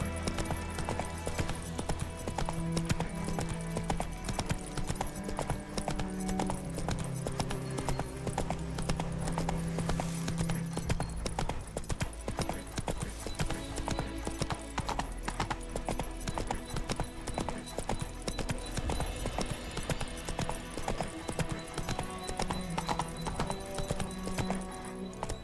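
Horse hooves clop at a steady walking rhythm throughout a long stretch of The Witcher 3, mid-distance and continuous beneath a layer of game music.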